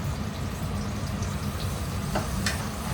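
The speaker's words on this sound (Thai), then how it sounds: "แต่ถ้าเราทำอาหารเจเราจะ เจียวเห็ดหอมค่ะ" Shiitake mushrooms frying in a pan give off a steady, close sizzle with a low rumbling bed beneath it, and a couple of brief clinks near the end.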